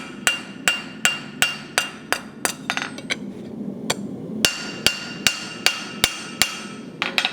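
A blacksmith's hammer planishes a tapered piece of hot steel on an anvil, about seventeen sharp, ringing strikes in an even, brisk rhythm, close and loud with quiet gaps between blows.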